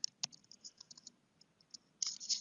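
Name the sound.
typing on a computer keyboard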